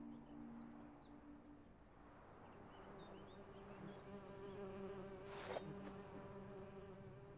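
Bees buzzing in The Witcher 3 game world, a steady droning hum of several insects with faint bird chirps and a low ambient tone underneath, quiet throughout.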